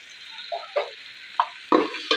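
Ginger-garlic paste being sautéed with mint leaves for chicken dum biryani, a soft sizzle under a few separate scraping stirs over about two seconds, quiet and close, with no talking.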